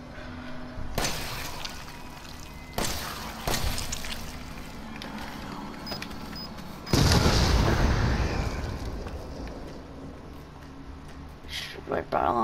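Gunshots in the video game Resident Evil 7, set in a salt mine: a few loud, sharp blasts spaced several seconds apart, one heavier boom followed by a rumbling tail, under and between a player's speech.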